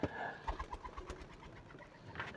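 Pigeons settling beside a feeding spot where grain has been put out, giving soft, low coos in a loose run of short pulses, fairly close and fairly quiet, with no talking.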